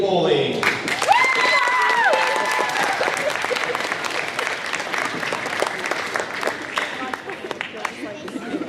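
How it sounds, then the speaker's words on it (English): A crowd of students and families at a school rally and awards ceremony claps steadily for citizenship award winners, with a musical phrase at the start and the dense applause continuing without a break. "Let's give one more round of applause for these awesome citizenship award winners"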